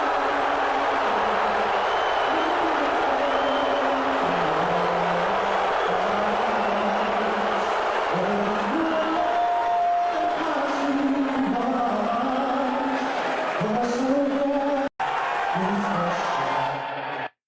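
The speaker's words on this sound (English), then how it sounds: "it sounds like a bunch of boos" Booing from a large game crowd, a steady dense roar of voices with rising and falling low boo tones throughout, loud and continuous, cutting off briefly near the end.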